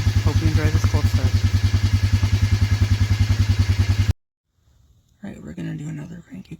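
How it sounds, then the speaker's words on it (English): Motorcycle on a cranky cold start, a loud, rapid, lumpy idle thumping close by for about four seconds before cutting out, then silence and a faint return of noise. "Hope you enjoy this cold start."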